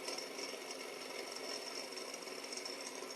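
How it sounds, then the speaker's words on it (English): A small Sunnytech hot air Stirling engine model, an external combustion desk toy set on an aluminum plate, runs with a fast, even mechanical whir and light ticking that holds steady and close, with no talking over it. "This external combustion engine is just an amazing toy or desk piece."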